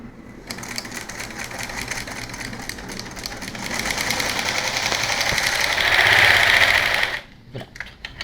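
A sewing machine stitches fabric for a baby teether toy, a fast rapid needle clatter starting abruptly, rising louder toward the end and then stopping, with a few faint clicks after.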